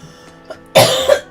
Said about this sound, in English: I'm also coughing a bit, but I know why.